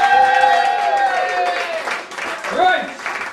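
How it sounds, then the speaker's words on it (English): Audience applause at a live stage show, a diffuse wash of clapping that stays in the background while someone talks loudly over it. "give Charles a very big round of applause as he goes and sits down."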